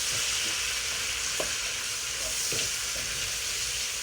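White onion frying in a pan alongside steak, a constant soft sizzle with a few light stirring clicks, faint and close with no voices.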